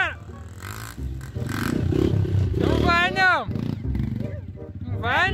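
A vehicle engine revs hard while trying to climb a hotel step, a rough roaring drone under excited Portuguese voices shouting and laughing throughout.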